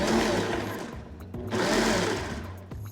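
A Kenwood Cooking Chef food processor whirs in short pulsed bursts as it chops shallots, two loud motor runs with brief pauses and a clunk between them, close up and without talk.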